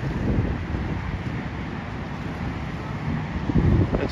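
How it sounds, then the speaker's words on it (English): Strong wind gusting across a beach by a lighthouse, buffeting the microphone with a constant low roar that swells at the start and again near the end, with no one talking. "there's a real good wind blowing today too, so I hope the microphone is taking the brunt"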